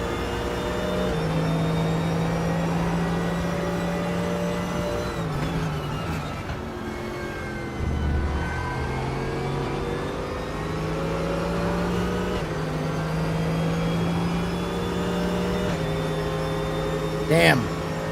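A Porsche race car engine in a racing sim game holds a steady, loud drone with rising and falling revs as it shifts through gears. A voice talks over it at times.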